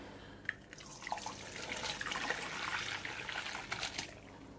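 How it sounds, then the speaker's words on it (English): Hot cooking water from a pan of rice or pasta pours into a colander set over a cup in a sink, making a close, steady splashing trickle with scattered drips and no voices. "After 20 minutes, it's now ready to be poured into the colander."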